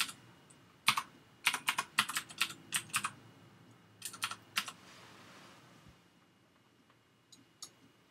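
Password being typed on a computer keyboard: a quiet run of quick, irregular key clicks in short clusters with brief pauses, close and alone.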